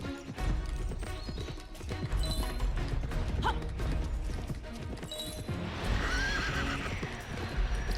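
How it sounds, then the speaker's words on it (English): Horses neigh and whinny in the Petz Horse Club video game during a steeplechase, with repeated clip-clopping hooves and clattering effects running steadily underneath and a longer whinny near the end. "I like how the horse neighs every time I activate the boost."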